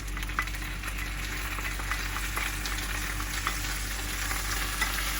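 Bok choy stir-frying with garlic, ginger and sauce in a hot pan, a steady dense sizzle with scattered crackles and light stirring scrapes, continuous and close with no talk.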